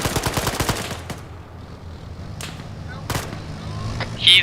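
Arma 3 video game gunfire: a rapid burst of automatic shots at the start, then scattered single cracks and a sharp loud report near the end, loud and close over a low rumble.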